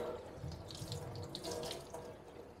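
A kitchen faucet runs steadily as raw pork ribs are rinsed under it, close and moderately quiet, with small splashes and patters as the water hits the meat.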